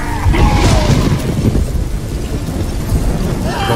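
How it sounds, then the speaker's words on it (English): A powerful magic explosion in The Witcher 3 rolls out as a deep, loud boom with a rumbling, echoing tail that slowly fades over a few seconds. "A magic explosion of some sort."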